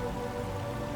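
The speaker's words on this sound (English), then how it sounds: "the thick palm fronds of the roof continue to muffle the impact of the rain" Steady rain falls on a thick palm frond roof of an over-ocean bungalow, a dense, muffled continuous patter without pauses or voices.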